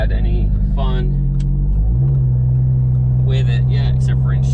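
Turbocharged Audi TT RS running 40 psi boost on a Syvecs setup, driven on twisty back roads: a loud steady engine drone inside the cabin that steps up in pitch as the car accelerates, with brief voices over it.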